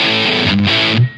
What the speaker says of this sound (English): Let's turn these 2 off, so we just hear the distortion.